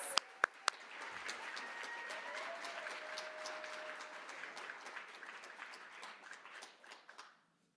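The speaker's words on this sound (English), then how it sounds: "Give her a round of applause." Applause from the crowd at a student leadership awards ceremony, starting with a few sharp claps and swelling into a steady round of clapping before fading out.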